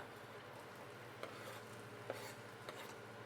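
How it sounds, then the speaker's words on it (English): Onions for butter chicken are stirred in a pan, faint low sizzling beneath a few soft scrapes and clinks of a utensil against the pan, quiet and close. "So we can kind of stir this and move it around a bit."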